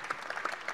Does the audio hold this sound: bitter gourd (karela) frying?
no